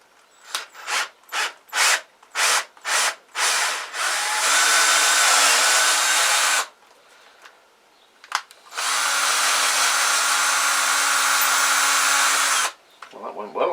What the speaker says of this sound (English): tap it out with my drill